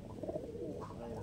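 Lalsira and KTM Teddy pigeons coo in a low, steady murmur, several birds overlapping close by in a loft with no talk.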